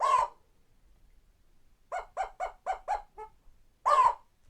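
A loud harsh call, then a rapid series of five or six sharp repeated chirps, then another harsh call, with quiet gaps between.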